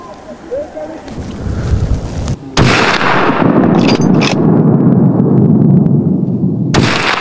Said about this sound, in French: Eric vient d'envoyer 2 balles mortelles sur cette bête rousse